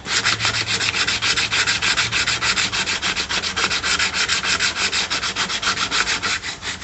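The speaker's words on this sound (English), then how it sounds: "And I'm using some 80 grit." 80 grit sandpaper on a 1965 Mustang rear valence, a close, loud, rhythmic scratchy rubbing with fast back-and-forth strokes that continue steadily throughout, with no voices.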